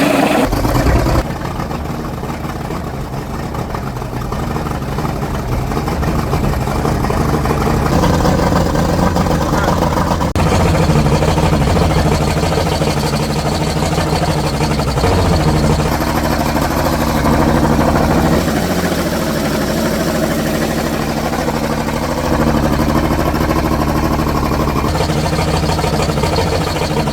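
An Evinrude 200 two-stroke outboard motor runs steadily after starting, with a loud, close, continuous engine drone and slight shifts in pitch throughout.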